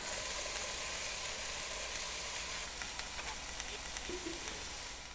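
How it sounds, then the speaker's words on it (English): Zucchini and squash sizzle steadily in warm oil in a pan, a close, even hiss that holds for a few seconds and then eases off slightly. "Got a nice little sizzle, but no smoke, no burn."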